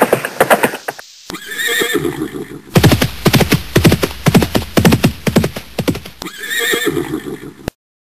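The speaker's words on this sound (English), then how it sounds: "Arabian horse" An Arabian horse neighs in several loud, close whinnies separated by short pauses, with hoof clip-clops mixed in between the calls.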